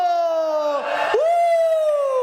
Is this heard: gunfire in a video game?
no